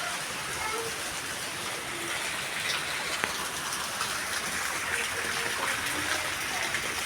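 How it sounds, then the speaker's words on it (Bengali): Steady heavy rain from Cyclone Remal falls across a rural yard with banana and papaya trees, a continuous broadband hiss of drops on leaves and surfaces, even and unbroken throughout with no voices. "দেখুন শুধু বৃষ্টিটা।"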